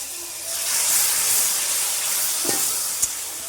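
Water poured into a hot pan of ginger and garlic spices for a banana flower curry sets off a loud, steady hissing sizzle, with a soft clink of a utensil near the end.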